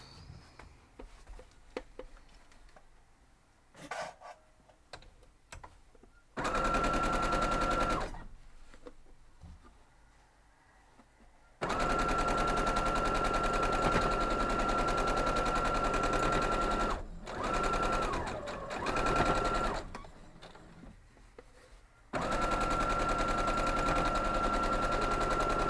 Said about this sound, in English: Now we'll head over and sew them.